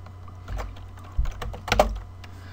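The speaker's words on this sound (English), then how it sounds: "I'm going to type in the code." Someone types code on a computer keyboard in a short, close burst of a few irregular key taps.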